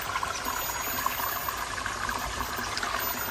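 Small garden waterfall spilling into a pond in a subtropical garden, a steady close splashing and trickling with no break, heard on its own.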